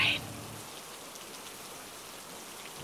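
Steady rain falls throughout in an animated scene, a soft, even hiss of drops on surfaces with no clear voices over it.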